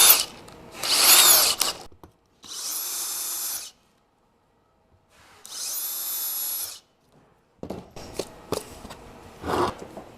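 A power drill whines through two separate bursts, each lasting about a second, with clattering and handling noises before and after.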